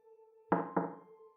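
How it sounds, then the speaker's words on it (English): Two firm knocks land on a townhome door, close and resonant, spaced about a quarter second apart, over a low steady hum of an ambient music bed. "Downstairs from the door of the townhome came knocking, and June jumped."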